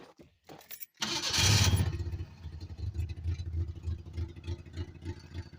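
Ford Ranger engine catching and running after a fuel pump repair: a sudden loud burst as it fires, then a steady, slightly uneven idle with rhythmic low pulsing.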